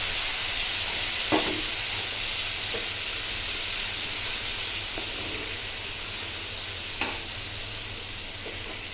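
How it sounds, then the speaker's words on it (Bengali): Whole spices (fennel seeds, cumin, cardamom and dried red chilli) frying in hot oil for a Bengali mustard-oil katla fish curry, giving a steady close sizzle and hiss with a few soft stirring clinks. "এবার দিচ্ছি মশলাটা মৌরি জিরে এলাচ শুকনো লঙ্কা"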